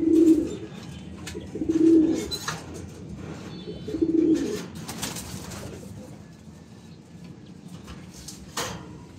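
Racing pigeons coo in three soft, low rounds near the start, each a short burbling phrase, then fade beneath faint background rustle and scattered ambient noise.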